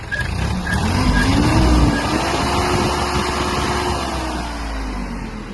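A small Iseki TK-25 Japanese mini tractor's engine is revved, giving a steady, loud, close drone that climbs and holds at a higher pitch, with no talk over it.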